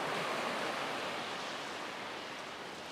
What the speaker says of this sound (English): Look at that, the sound of the waves.